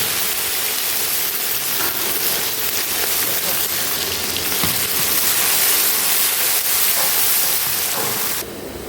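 Onions fry in oil in a kadhai for kadhai chicken, giving a steady, close, rain-like sizzling hiss that runs throughout, with no talking.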